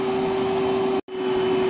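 A Milwaukee M12 battery-powered wet/dry vacuum runs with a loud, steady motor whine and airy rush, cutting out for an instant before resuming.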